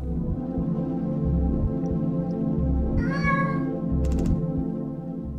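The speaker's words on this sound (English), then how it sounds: "I got a kitty!" Itchy, a cat in the game Lone Survivor, gives a couple of clear meows over a steady low purring hum, close and without talk.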